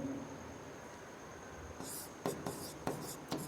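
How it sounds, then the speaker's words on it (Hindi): Pen writing on paper during a Class 10 trigonometry lesson, a quiet scratching stroke broken into several short bursts, faint and close with no talk. "यहाँ पे देख लीजिए, लिख लेता हूँ"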